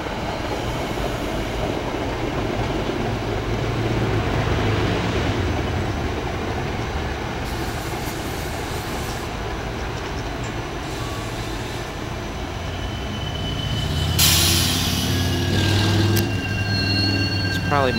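A SEPTA Silverliner IV commuter train arrives at speed, a loud continuous rumble of wheels and rails that swells toward the end with squeals and clatter, while voices talk faintly in the background.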